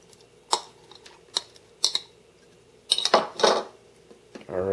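Jalapenos, onions and cheddar cheese dropped into a microwave egg cooker: several separate light clinks and taps against the container, a denser cluster of clatter near the end, then a brief rustle.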